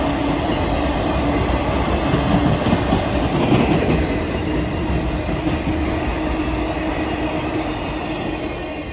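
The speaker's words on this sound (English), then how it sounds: "Not even a minute after that northbound ore train clears, a southbound T-Bird begins to round the curve." A northbound iron ore freight train rolls steadily past close by, a loud continuous rumble with rhythmic clickety-clack of wheels over rail joints and no voices.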